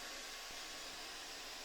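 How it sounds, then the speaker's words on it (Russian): A vacuum cleaner used for gold jewelry work runs steadily, a smooth broadband whoosh that stays even and moderately quiet throughout, with no voices. "Сейчас немного тестов на мощность пылесоса."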